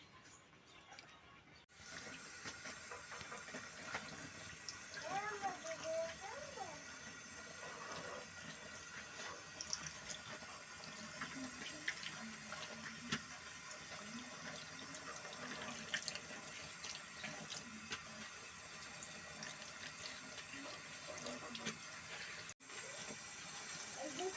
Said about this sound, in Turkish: Topladığımız yaprakları bol suda yıkayacağız.